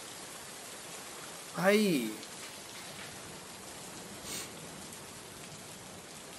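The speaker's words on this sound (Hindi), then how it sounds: "बाहर बारिश हो रही है।" Steady rain falls outside as a constant, even hiss throughout, with a single short spoken word near the start.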